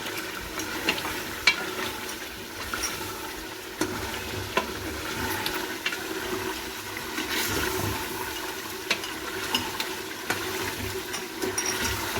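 Bone curry is roasted in ghee with a steady frying sizzle throughout, punctuated by regular light clicks and scrapes of a spoon stirring in the pan.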